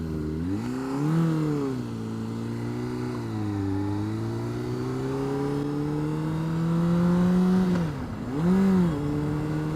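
A Honda CBR600RR motorcycle pulls away, its engine revving up through rising, steady drone with a brief dip and another surge near the end, loud and close.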